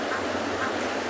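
Harsh, quacking honks from geese giving a warning call, repeated over a steady wash of outdoor noise, fairly close.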